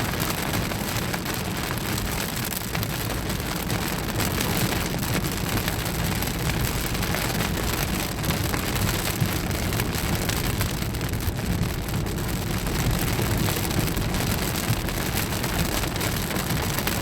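Steady heavy rain from a thunderstorm in Choctaw, Oklahoma, a dense continuous hiss with wind buffeting the microphone and low rumbling underneath, no voices.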